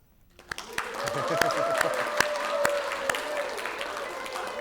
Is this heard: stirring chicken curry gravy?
no